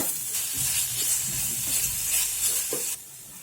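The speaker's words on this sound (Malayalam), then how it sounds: "എല്ലാ ഭാഗത്തും എണ്ണ പിടിക്കുന്ന പോലെ നന്നായിട്ട് ഇളക്കി വഴറ്റിയെടുക്കാം." Sliced onions sauté in oil while being stirred, giving a continuous close sizzle with soft scraping stir strokes that cuts off abruptly near the end.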